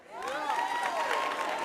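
Convention audience clapping for the men, a brief burst of applause rising quickly under a voice and cheers, moderately loud.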